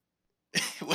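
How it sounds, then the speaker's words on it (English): A single short, harsh cough bursts out of silence halfway through, close and fairly loud, with a rough two-part rasp. "Sorry, I cough like a crow."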